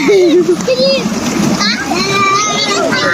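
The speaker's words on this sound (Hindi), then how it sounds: "वो अहमद पानी में घुस गया।" Children splashing in water from a village tubewell, steady close splashes and sloshing mixed with excited kids' voices and shouting throughout.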